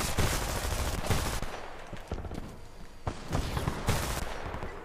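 Rapid gunfire from a multiplayer match of the video game Homefront, loud bursts of shots in quick succession with a couple of brief pauses, close and dense throughout, with no talking.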